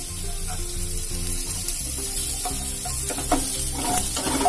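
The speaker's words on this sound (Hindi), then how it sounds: "हमें थोड़ी प्याज डाल देंगे और इसमें थोड़ी सी गाजर ऐड कर देंगे" Chopped onion and carrot frying for Maggi noodles, giving a loud, steady sizzle with a constant low hum and occasional stirring scrapes near the end.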